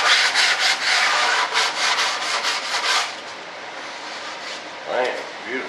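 Sandpaper rubs back and forth along the edge of a wooden model airplane wing, a fast run of close, steady scratchy strokes that fades into quieter rubbing toward the end.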